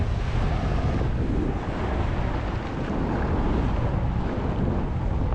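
Wind roars in a steady, loud, broadband rush across the microphone during an e-bike ride in Sycamore Canyon, Riverside, California, unbroken throughout.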